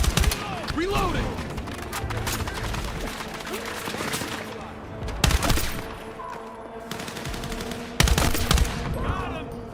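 Video game gunfire: dense bursts of automatic weapons and single shots crackle continuously, with heavier blasts punching through at intervals while voices call out over the firefight.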